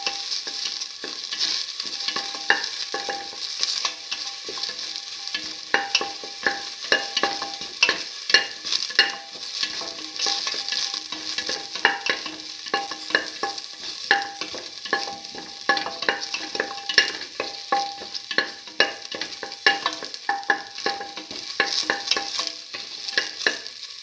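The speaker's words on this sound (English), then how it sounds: "Toss till the shallots lose the pinkish color." Shallots stir-fried in a pan crackle and sizzle continuously, with dense clattering scrapes and tosses of a spatula close by, loud and unbroken.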